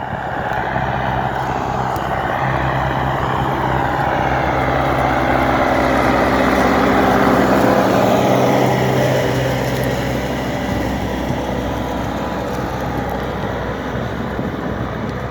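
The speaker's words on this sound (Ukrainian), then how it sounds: "дискуємо двома тракторами" Two tractors, an MTZ 952 and a New Holland TD5 110, discing a field: a loud, continuous diesel engine drone with a steady low hum and the rumble of implements, no speech.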